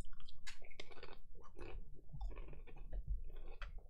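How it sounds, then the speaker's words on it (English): Crunchy snacks chewed close to the microphone, a quick run of dry crackling bites and crunches, fairly loud and steady, with no talking over it. "I got crunchy snacks."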